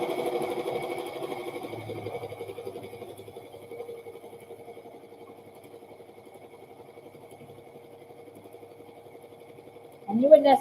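An embroidery machine stitches a center line on a burp cloth in the hoop, its fast, steady mechanical whir continuing evenly for several seconds before a louder clunk near the end.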